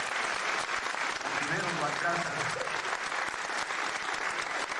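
Sustained audience applause at a teachers' union tribute event, a dense even patter of many hands filling the room while a voice keeps speaking over it.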